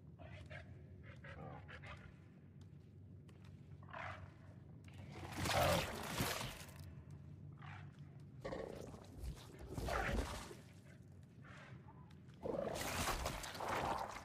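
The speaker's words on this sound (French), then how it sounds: "Ah putain, il y a un machin. Un chien déformé là." A deformed dog creature in the game Scorn snarls and growls in repeated rough bursts, with several loud, harsh roaring outbursts separated by quieter gaps.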